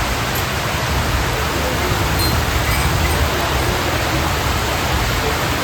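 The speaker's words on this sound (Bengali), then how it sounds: "দেখো বন্ধুরা বৃষ্টি শুরু হয়ে গেছে" Steady rain falls in an even, continuous hiss at night, a broad wash of drops at moderate level with no breaks or other sounds standing out.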